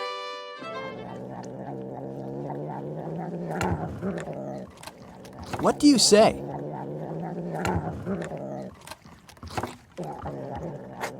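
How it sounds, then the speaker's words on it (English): A cat purrs in a low, steady, buzzing rumble that holds for several seconds, with a voice briefly speaking over part of it. "it's the sound of a purring cat"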